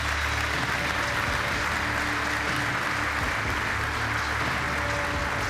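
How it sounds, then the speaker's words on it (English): A large audience at the UEFA Champions League group stage draw gives sustained applause for Miroslav Klose, a dense, continuous roar of clapping that holds steady throughout. "You can give him another round of applause"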